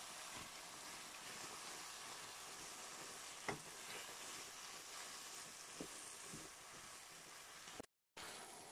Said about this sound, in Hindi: अब मैं इसमें ये टमाटर डाल रहा हूँ।